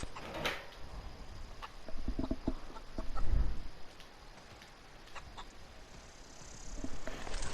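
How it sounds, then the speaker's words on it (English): A chicken clucks in short bursts in the video game The Outer Worlds, against a quiet background, with a few soft knocks and rustles between the calls. "Look at the chicken."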